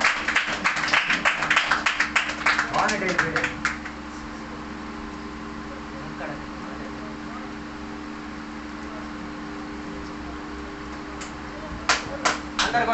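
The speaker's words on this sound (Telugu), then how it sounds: "అందరు కూడా చప్పట్లు కొట్టి పిలుద్దాం అతన్ని." Audience clapping at a PYPA community meeting in November 2024 to welcome a speaker to the stage, a dense burst of many hands over the first few seconds that fades into room murmur, with a brief second round near the end.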